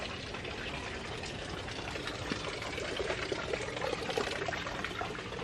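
Water leaks and drains from a wooden fish pond at an aquaponics fish farm, giving a continuous splashing, trickling wash that stays steady throughout.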